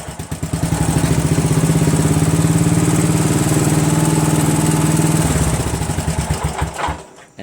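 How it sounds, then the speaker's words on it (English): A Craftsman 13.5 mid rear engine riding mower with its fuel solenoid bypassed runs loud and close with a steady chugging drone, then winds down and shuts off near the end. "without that fuel solenoid, right, at high throttle it does backfire"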